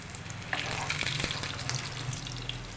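Fish kababs coated in cornflour and breadcrumbs frying in oil, a steady dense sizzle with a few sharper pops, close and fairly quiet, no talk.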